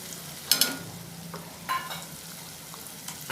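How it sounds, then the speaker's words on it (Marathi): Gram flour (besan) roasts in about half a spoon of oil for paneer bhurji gravy, with soft sizzling and a couple of sharp scraping stir sounds over a quiet background. "बेसन भाजून घेण्यासाठी इथं थोडंसं तेल घेते मी, अर्धा चमचा."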